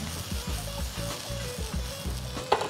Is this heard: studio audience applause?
no